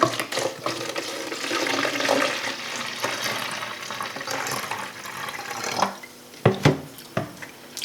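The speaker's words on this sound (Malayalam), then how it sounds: "ഇതുപോലത്തെ സ്പ്രേ ബോർഡിലേക്ക് വൈറ്റ് വിനാഗിരി എടുത്ത്" White vinegar is poured into a spray bottle, a liquid splashing and gurgling stream that runs steadily for several seconds, then a few sharp clicks and knocks as the bottle is handled.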